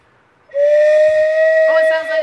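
A vintage pottery whistle, blown once, gives a long, steady, shrill note like a train whistle that holds for about two seconds before a brief flutter at the end; it is close and loud, with no talk over it.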